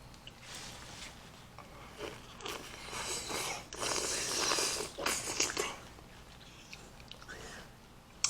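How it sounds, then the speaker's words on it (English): Close, wet chewing and slurping of juicy kiwi fruit, with soft smacking and sucking sounds rising and falling, no talking. "Sorry for slurping, but kiwi has a little tangy"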